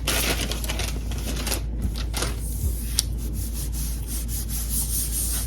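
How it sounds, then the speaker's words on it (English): Transfer tape is smoothed down and peeled back over a Cricut Joy vinyl cut, giving close scratchy rubbing and crinkling strokes with a few sharp ticks, in continuous irregular bursts. "I'm just gonna smooth as I peel it back"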